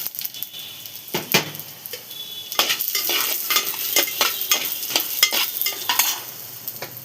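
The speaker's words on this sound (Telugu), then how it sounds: "ఇప్పుడు ధనియాలు వేయించుకుందాం." Dry coriander seeds roasting in a pan for a drumstick-leaf spice powder give a steady close sizzle and patter, with repeated scraping stir strokes and rattling seeds building through the middle and continuing to the end, with no voices.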